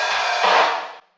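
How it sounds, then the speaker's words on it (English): Lo-fi intro drum track for heavy shoegaze or nugaze, treated with vinyl noise and reverb; a dense, washy burst of sound that swells midway, sits slightly in the background and cuts off abruptly after about a second. "The intro drum track, just to quickly dive into that sound."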